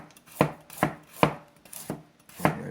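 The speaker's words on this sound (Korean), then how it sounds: "당근을 이렇게 놓으시고 바로 썰어보도록 하겠습니다" Knife slicing a peeled carrot on a cutting board, five crisp chops at a steady rhythm, close and clear with no talk.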